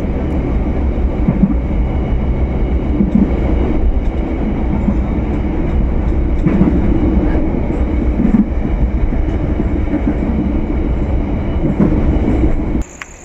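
Steady low rumble and rattle of the Kutojaya Selatan passenger train rolling slowly into Tasikmalaya station, Indonesia, continuous and fairly loud, with faint squeaks and clanks throughout; no talking.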